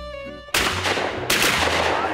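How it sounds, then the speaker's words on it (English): Two loud, close shotgun blasts during an upland game bird hunt, about three-quarters of a second apart, each with a sharp crack and a lingering rumbling echo. "I shot it the second time."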